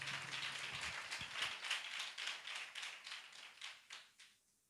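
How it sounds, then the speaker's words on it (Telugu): Congregation clapping in a Sunday church service: a dense patter of many hands clapping together for a few seconds, moderately loud, then thinning out and stopping, with no talking over it. "చప్పట్లు కొట్టు ఒకసారి."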